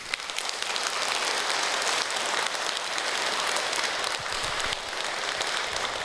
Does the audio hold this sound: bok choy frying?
no